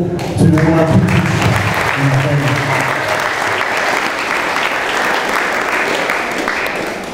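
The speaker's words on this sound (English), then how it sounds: "So can we give a round of applause to all our teachers?" An audience at a youth development trust's evening cultural performance bursts into loud, sustained applause for the teachers, with some cheering voices near the start before the clapping settles into an even roar.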